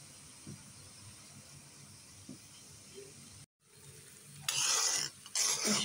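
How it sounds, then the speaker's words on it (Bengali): Raw mango murabba is stirred in a pan, giving a low, faint bubbling sizzle with occasional soft scrapes, then a brief silence before louder hissing bursts of steam near the end. "আঠালো ভাব না আসবে সে পর্যন্ত অল্প আছে নাড়তে হবে"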